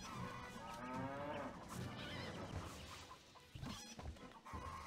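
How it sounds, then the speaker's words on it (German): A cow moos in the medieval castle-building video game Stronghold, a low drawn-out call accompanied by clucking fowl and farmyard ambience at moderate volume. "Ja, weil sie eine Kuh ist. Die macht nämlich Mu."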